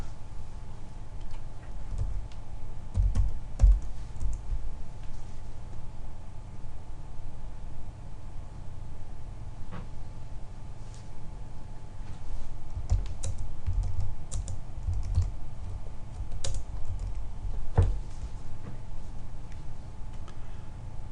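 Keys clatter on a computer keyboard during business-number entry in accounting-software company preferences, a steady run of soft, close clicks with a few sharper taps, heard alone over a low hum without any speech.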